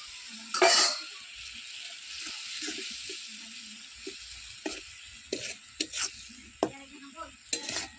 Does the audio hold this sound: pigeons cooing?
no